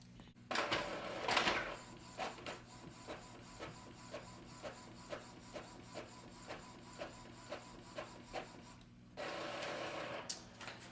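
An Epson EcoTank ET-2800 inkjet printer prints the second side of a double-sided page, with paper-feed whirs at the start and end and a steady run of rhythmic mechanical clicks and shuttles between them, all close and fairly quiet.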